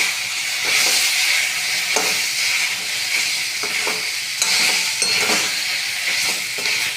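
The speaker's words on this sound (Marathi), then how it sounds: "टोमॅटो छान परततो आहे आणि यातच थोडंसं आपण बीट टाकून घेऊया" Chopped tomatoes and beetroot sauté in a pan for tomato soup: a steady, close sizzling hiss throughout, broken by scraping stirs of the spoon every second or so, with no voices.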